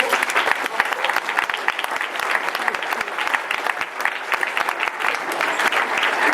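Students, faculty and parents at a school assembly applaud together, a loud, sustained round of many hands clapping with sharp individual claps standing out.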